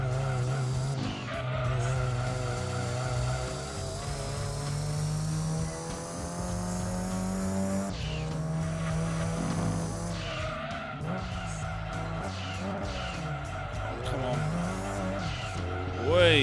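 A race car in Gran Turismo 2 drifts with long, loud tire squeal and engine roar, the skid sweeping across several seconds, while a commentator voice talks over it.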